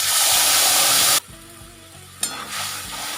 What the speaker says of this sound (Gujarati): આપણે એની અંદર 2 પાવડા આપણે જીરાનો વઘાર કરીશું